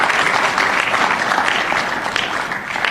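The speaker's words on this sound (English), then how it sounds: "You must clap for that." Steady applause from a sizable audience, dense clapping that holds at an even level throughout without any voices on top.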